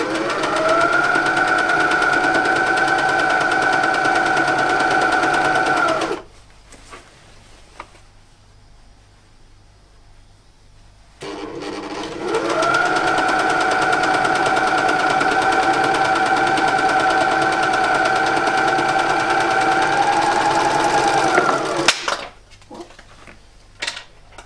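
A sewing machine stitching shirt pieces together runs in two long, steady humming stretches with a near-silent pause between them. The motor is close and loud, and a short clatter follows at the end.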